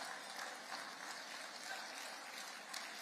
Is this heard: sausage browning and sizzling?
no